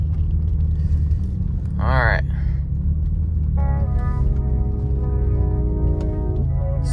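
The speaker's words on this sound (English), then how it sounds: "Let's do some talking outside of the car while the car's just idling." A Hyundai Genesis Coupe sits idling, its steady low engine rumble running throughout, close by, while someone talks over it and a brief higher tone sounds partway through.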